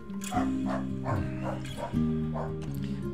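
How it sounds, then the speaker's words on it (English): A dog barks and yips repeatedly in the background, close and moderately loud, over a steady musical drone in a story-rich roleplaying game. "Apologies for the dog in the background."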